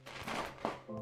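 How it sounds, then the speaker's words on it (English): Fireworks going off a short way down the block on the Fourth of July, heard from inside a hot home as a faint, distant series of rapid popping crackles with no talk. "Oh, fireworks are going off."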